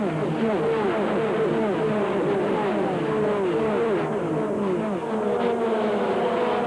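NASCAR Busch Grand National stock cars racing at nearly 190 mph at Michigan International Speedway in 1993, a dense, continuous engine roar with overlapping pitch sweeps as several cars pass.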